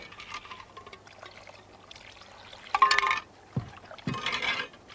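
Water poured while cooking on Spain's Costa Blanca: soft trickles and splashes come in a few uneven bursts, quiet and close, with gentle clinks between them.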